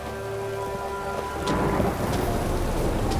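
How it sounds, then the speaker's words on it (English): Heavy rain pours steadily in a Witcher 3 storm as thunder rumbles in, the downpour loud and close with crackling drops over a deep low roar. "A storm, damn it."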